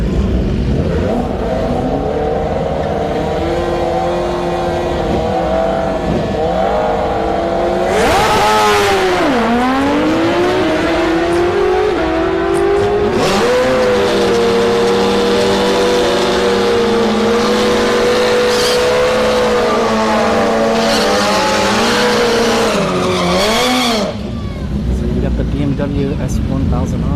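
Sport motorcycles, including a GSX-R, and cars launch down a drag strip at Orlando Speed World, with loud engines revving and rising as they accelerate away, heard under crowd and announcer noise.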